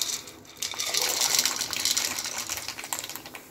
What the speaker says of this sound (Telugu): సో ఇప్పుడు మనం వేసేద్దాం పాస్తా.